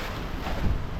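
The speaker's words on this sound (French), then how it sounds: "On est entre 12 et 15 nœuds de vent." Wind at 12 to 15 knots buffets a sailboat out at sea during an ocean crossing: a brief, moderate gusty rush of air across the microphone with some low rumble and water noise, and no voices.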